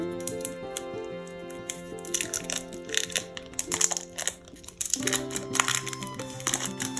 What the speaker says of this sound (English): Trying to be very careful with the packaging opening.